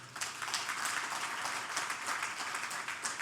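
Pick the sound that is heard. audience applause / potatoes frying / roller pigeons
audience applause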